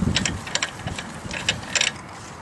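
A hand ratchet working on the wheel of a Ford F150 during a brake job gives several short bursts of quick clicking, close and fairly quiet, separated by brief pauses.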